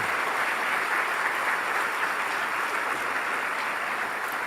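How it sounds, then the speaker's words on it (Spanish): A church congregation claps steadily and continuously, a dense wash of applause from many hands filling the room without pause. "Den un aplauso al Señor."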